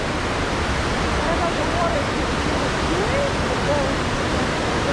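White water rapids roaring through Ausable Chasm, a dense, steady broadband rush heard loud and continuous.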